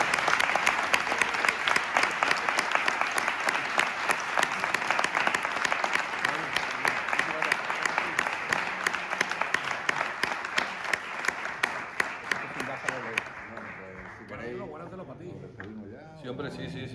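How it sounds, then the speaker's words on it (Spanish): Loud, sustained applause from a large audience, dense clapping that continues for several seconds before tapering off at the end. "Falta un aplauso grande para..."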